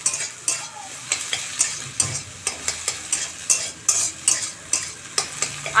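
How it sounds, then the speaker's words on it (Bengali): Egg frying in a pan, with a soft sizzle under a regular series of sharp scraping taps from a utensil, roughly two per second, close by and without speech. "ডিমটা সুন্দর করে ভেজে নিব।"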